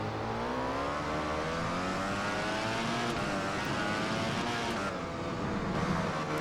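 A racing motorcycle engine in Valentino Rossi The Game, ridden at Motegi, revs continuously on a corner exit. Its pitch climbs and falls in loud, smooth, close sweeps under gentle throttle.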